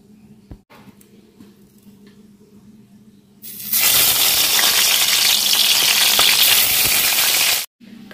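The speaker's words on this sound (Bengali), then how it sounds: "আমার বেগুন ভাজা হয়ে গেছে" Eggplant slices frying in a pan burst into a loud, dense sizzle that starts abruptly and holds steady for about four seconds before cutting off, preceded by quiet room sound and small clicks.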